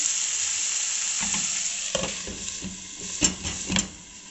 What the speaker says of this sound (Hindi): 15 से 20 मिनट के लिए हम कीमे को दम पे पकाएंगे